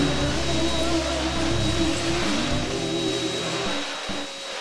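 A household vacuum cleaner runs steadily and loudly for the whole stretch, its motor hum and whine dropping near the end as it seems to shift or pull away.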